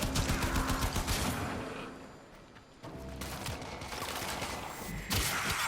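Bursts of machine gun fire from the video game Warframe rattle out in rapid, loud volleys, easing off briefly midway before heavy firing resumes with sharp impacts.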